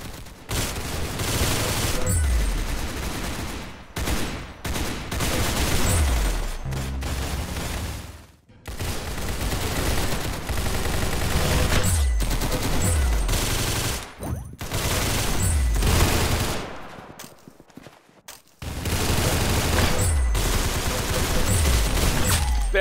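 Automatic gunfire in a shooter video game, loud sustained bursts of rapid shots with brief pauses between volleys, dense and close throughout.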